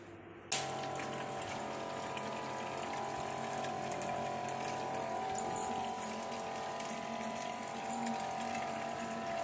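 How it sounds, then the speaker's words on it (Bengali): Water filling a bottle indoors, a steady, continuous rushing flow that starts abruptly and runs evenly throughout at a fairly low level, with no talking. "আমার জল ভরতে হবে বোতলে।"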